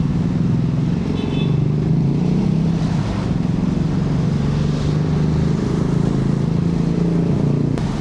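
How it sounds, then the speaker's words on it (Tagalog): A motorcycle with a freshly cleaned CVT and new oil rides through a flooded stretch of Rizal Avenue in Manila, its engine droning steadily and loudly under constant water swish and road noise, with no talking. "Ganda ng hatak ng motor natin."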